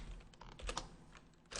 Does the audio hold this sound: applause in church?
no